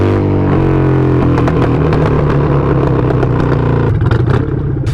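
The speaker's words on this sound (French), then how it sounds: "C'est un Harley Davidson." A very loud Harley-Davidson motorcycle engine, billed as one of the loudest bikes, runs close up with a deep, throbbing exhaust rumble and rapid staccato firing pulses that swell briefly as it revs, then settles back.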